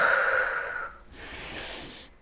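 A person breathes during a dumbbell and band upper-body workout, taking one long audible breath followed by a breathy exhale, close and alone.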